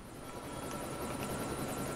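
Helicopter in Lego City Undercover: a continuous, steady rotor and engine drone with rhythmic blade chop, moderately quiet and constant throughout, no voices.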